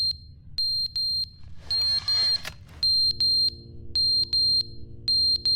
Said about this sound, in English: Fire alarm? Okay.